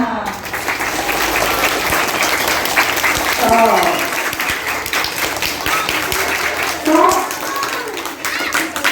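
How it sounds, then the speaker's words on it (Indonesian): Schoolchildren clap their hands together in a school activity session, a loud, busy stretch of many small hands clapping with children's voices and chatter mixed through it. "Tepuk tangan semuanya."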